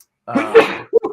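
A single loud, close sneeze bursts out sharply, followed a moment later by a short vocal sound, with no other noise around it.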